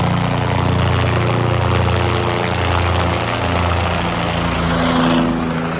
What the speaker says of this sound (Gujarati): અમારે એકદમ ઉપરથી જાય છે આ હેલિકોપ્ટર